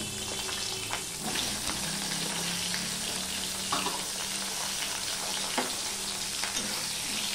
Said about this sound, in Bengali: বেগুনগুলো আমি ভেজে নেব।